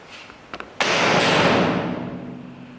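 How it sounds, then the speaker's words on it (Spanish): A couple of faint clicks, then a sudden sharp bang as an Airsoft Innovations XL Burst airsoft grenade bursts into a loud roaring hiss, slowly fading over about two seconds. "vamos a ver con los E-Armor cómo se escucha la explosión de la granada."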